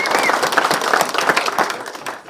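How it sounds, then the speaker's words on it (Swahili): Audience applause for a Member of Parliament at a Kenyan National Assembly gathering, steady crowd clapping that fills the whole stretch, dense and fairly loud, tapering slightly at the end. "Tumpigie makofi huyu jamaa."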